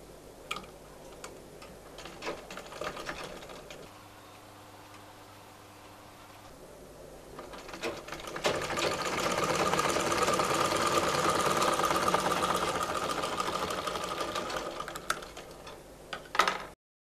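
A sewing machine runs a long steady stretch of stitching on a petticoat waist belt joint, its fast mechanical whirring framed by quieter clicks and handling noises before and after.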